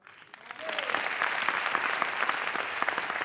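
A stand-up comedy show audience breaks into applause, swelling quickly from quiet into dense, sustained clapping that fills the room.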